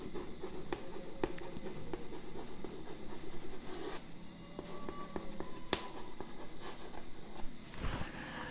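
Marker or chalk strokes on a board during an anatomy lesson, a steady run of short scratchy writing strokes with faint taps, heard alone at moderate level.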